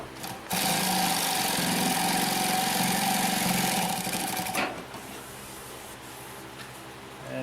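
A Consew P1206RB upholstery sewing machine runs through many thick layers of fabric with seams, a loud, rapid, steady whirring rattle lasting about four seconds before stopping, then a softer motor hum remains.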